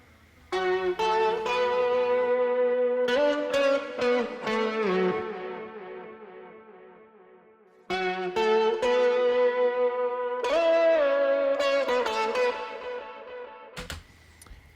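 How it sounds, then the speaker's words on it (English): Heavily distorted electric guitar lead, raised an octave for the chorus of a home-produced song, plays sustained melodic lines over a full band mix, loud and continuous with two sections separated by a brief drop near the end. "going into the chorus, we add more distortion to that guitar lead, and we also bring it up like an octave too"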